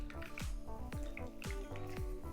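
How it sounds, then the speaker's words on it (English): Water squeezed from grated zucchini drips in a steady series of close, wet drops, roughly one every half second, over a constant low background. "You wanna get as much of that excess water out from the zucchinis"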